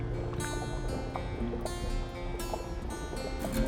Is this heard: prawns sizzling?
no